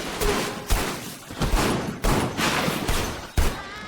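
Gunfire in an action film scene, a rapid series of sharp, loud shots spaced about half a second apart, each with a booming low thump and short ringing tail.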